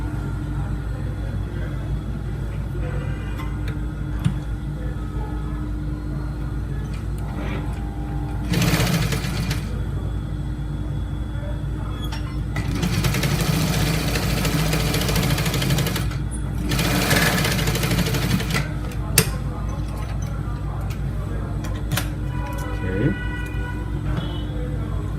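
A sewing machine stitches at the back of trouser gaiters, a steady, close mechanical hum broken by a few louder noisy bursts, with occasional speech in between.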